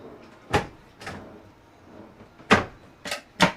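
Large storage drawers on an RV at a Florida RV show slide open and shut, giving several distinct thumps and bumps spaced across a few seconds, fairly close and without talk.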